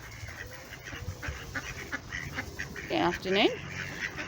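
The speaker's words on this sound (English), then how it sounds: "As you can see, all the duckies. Quite a few duckies." Ducks and geese honk and quack on a pond along a short trail walk, a couple of loud calls rising near the end over outdoor ambience while a person talks nearby.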